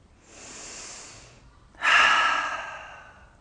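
Slow, deep breathing during a guided yoga session for anxiety relief: a long, soft inhale followed by a brief pause and a louder, fuller exhale, close to the microphone with no talking.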